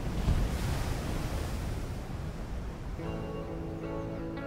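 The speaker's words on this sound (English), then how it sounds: "the sounds of the waves crashing" Ocean surf crashes against an island shore in a loud, continuous roar with gusting wind, and a faint steady hum joins partway through.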